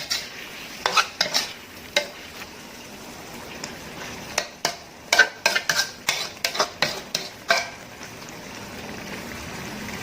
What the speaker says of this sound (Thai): ผัดจนหมูมันสุกได้ค่ะ